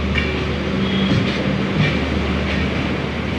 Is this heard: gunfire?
no